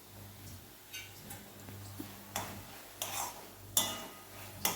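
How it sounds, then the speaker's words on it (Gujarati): Spatula scraping and tapping through gunda bhaji in a pan after a teaspoon of coriander-cumin powder goes in, a handful of light, uneven clinks and scrapes over a low background hum, with no talking. "એક વખત આવી રીતે હલાવી લેવાનું"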